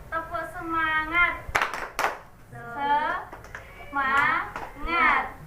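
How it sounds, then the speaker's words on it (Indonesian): In a classroom, a cluster of quick, crisp claps sits between a teacher's speaking voice and the children's chanted reply. "Ulangi satu kali lagi ya. Tepuk semangat."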